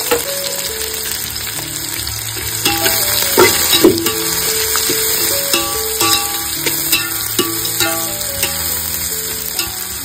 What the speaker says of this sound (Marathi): इकडे कांदा आपला मस्त परतवून घेतलेला आहे